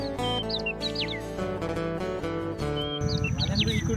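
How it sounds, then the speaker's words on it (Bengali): Birds in a sal forest near a Gazipur eco resort chirping and tweeting in quick, repeated bright calls, several voices close by over a steady tonal background hum. "আর চারপাশে শুধু পাখির কিচিরমিচির,"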